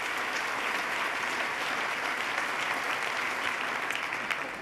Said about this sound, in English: let's start by giving Pat a big round of applause for coming up and sharing his story